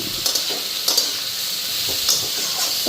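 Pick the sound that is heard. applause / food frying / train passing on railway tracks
food frying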